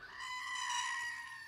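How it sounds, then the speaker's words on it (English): A screaming goat sound effect, a single loud, drawn-out, strained bleat lasting over a second, heard alone. "The screaming goat, it's his last appearance here on the show."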